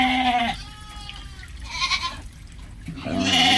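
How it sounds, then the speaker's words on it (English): Goats on a small Nigerian livestock farm bleat in a few loud, wavering calls close by, with short pauses between them and a faint sound of running water underneath. "it's only the goats I'm attending to"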